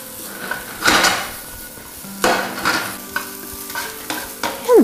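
Scallions, roasted corn and chipotle pepper stirred in a pan, with a steady frying hiss under several scraping, clattering strokes of a utensil against the pan, alone and close.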